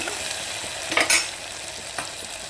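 Mutton frying in oil gives a close, steady sizzle, with a couple of sharp stirring scrapes against the pan in a short burst, no voices.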